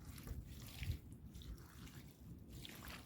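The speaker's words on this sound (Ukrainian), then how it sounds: "Спочатку водичка. Так, гарно наливаю так навколо" Water being poured onto the soil around a panicle hydrangea, a soft, continuous splashing trickle at close range with faint dribbling.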